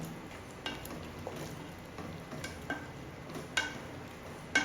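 Soft scraping and stirring of chicken gravy with coconut in a pot, village-style home cooking, faint with light irregular clinks of the spoon against the metal over a low sizzle.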